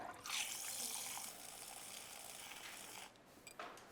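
Warm milk pours into a glass of dissolved instant coffee with caramel syrup, a soft, close liquid stream lasting a few seconds before trickling off into quiet.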